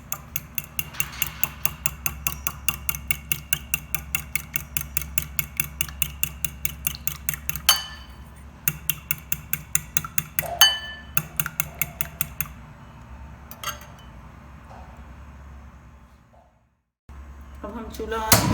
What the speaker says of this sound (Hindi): अब हम अंडे फेंट लेते हैं।